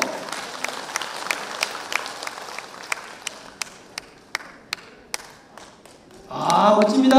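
Scattered, sharp hand claps from an audience at a community arts festival stage, spaced out and fading, before a louder burst of sound enters near the end.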